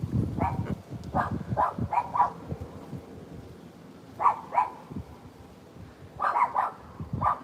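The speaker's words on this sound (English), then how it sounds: "Dogs are barking." Dogs bark at a beach at sunrise in short clustered bursts, several sharp barks at a time separated by pauses, fairly close and loud.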